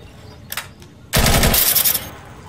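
Gunfire in the shooter game Insurgency: a couple of brief distant shots, then a loud close burst of rapid automatic fire lasting about a second before tapering off.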